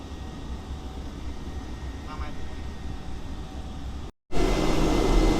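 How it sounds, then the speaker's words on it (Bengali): A steady, loud cabin drone fills the clip as an airplane taxis on the runway before takeoff on a Kolkata flight, with a brief dropout near the end and faint murmuring underneath. "এটা হচ্ছে রানওয়ে এটা দিয়ে কিন্তু আমরা একটু গিয়ে ওখান থেকে উড়ান দেবে"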